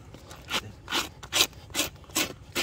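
Farrier's rasp filing a horse hoof: six rough, evenly spaced scraping strokes up close, each a short gritty rasp with brief gaps between.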